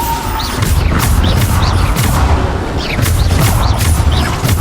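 Bombarda spell blasts from Hogwarts Legacy land in quick succession, deep booms and crashing impacts layered over a steady wash of fight noise, close and loud throughout.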